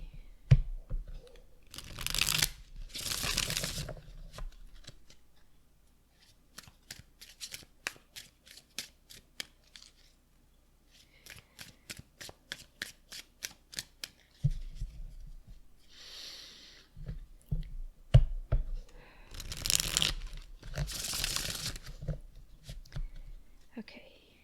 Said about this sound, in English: I'm going to shuffle the cards a bit while I'm shuffling.